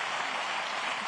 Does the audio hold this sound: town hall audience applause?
yes